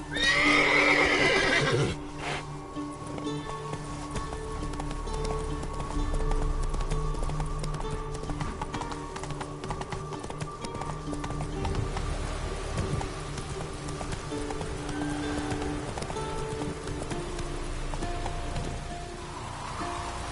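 Roach the horse in The Witcher 3 neighs loudly at the start, then gallops with steady hoofbeats under falling rain for the rest of the stretch, the hooves moderately close and constant.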